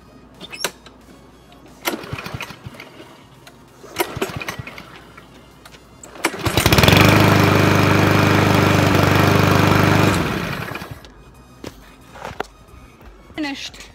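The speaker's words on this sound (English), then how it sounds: "Let's mow." Walk-behind lawn mower running while mowing a yard, footsteps and handling noises first, then the engine roaring loud and close for a few seconds before cutting out, with people talking around it.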